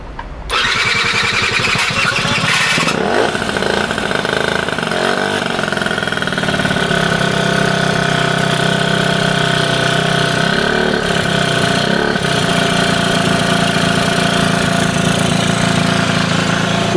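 A Gentsuki Passola scooter's small engine sputters to life and runs steadily, loud and close, with throttle blips raising its pitch before it settles back into a continuous buzzing idle.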